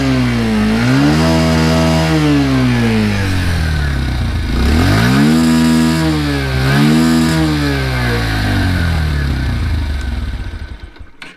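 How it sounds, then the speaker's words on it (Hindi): A Bajaj Pulsar 125 motorcycle with a 125 cc engine starts and revs twice, rising and falling in pitch, loud and close, then cuts off near the end. "all I need to do is मेरे को सिर्फ किक मारनी है, कुछ नहीं, ना क्लच पकड़ना है ना कुछ"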